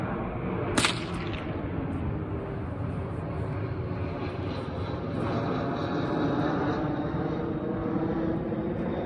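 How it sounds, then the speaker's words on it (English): A low-flying airplane passing overhead outdoors, a steady broad engine drone throughout, with a sharp bullwhip crack near the start and a voice speaking briefly. "That's a really low plane."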